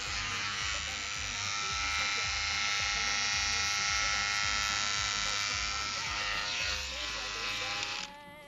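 A Braun Silk-épil 9 runs its shaver head over skin, a loud, steady electric buzz that holds for about eight seconds, then cuts off abruptly, with faint talk beneath it.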